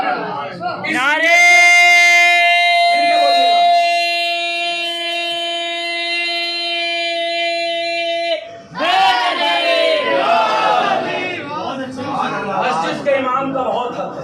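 Long sustained shout from a leader is followed by a gathered crowd roaring religious slogans back in unison, loud and close, with a second burst of mixed voices trailing off.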